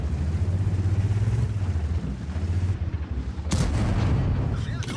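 A German E 75 TS tank fires its cannon in a tank battle game, with a heavy boom about midway over a constant rumbling engine drone, and no talking.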